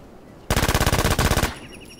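A loud burst of rapid automatic machine gun fire in a shooter video game, two quick volleys of evenly spaced shots that stop abruptly.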